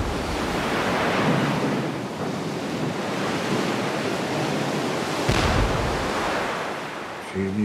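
Ocean waves surge at sea with a broad, loud, continuous roar, heavy wind buffeting the microphone, and a sharper thump midway through; no voices.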